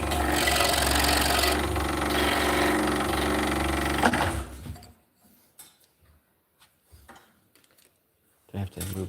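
An Olson PG2 number 7 precision-ground saw blade cuts 5/8 inch cherry wood with a loud, steady rasping buzz for about four seconds, then stops, leaving near silence with faint knocks.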